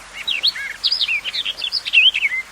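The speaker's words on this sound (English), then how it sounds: "This is bird." Bird chirping, a rapid series of bright, high tweets and short whistled notes, close and clear with no other sound.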